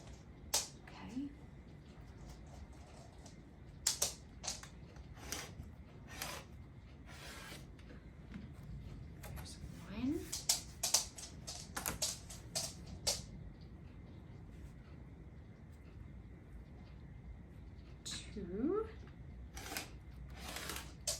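Scissors cutting paper strips at close range, with a scattering of crisp snips and soft paper rustles spread across the stretch, quiet overall with brief pauses between cuts.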